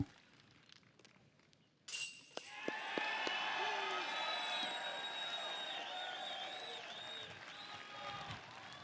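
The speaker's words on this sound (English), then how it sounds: "Nice little reaction from the crowd from Rick." Crowd at a 2021 disc golf tournament final in Emporia bursts into loud applause and cheering after a quiet start, the clapping and whoops sustained and fairly close for several seconds.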